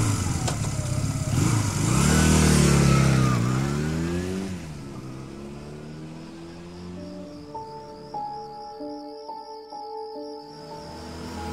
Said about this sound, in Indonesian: Buru-buru aku menyalakan motorku dan langsung tancap gas pulang ke rumah.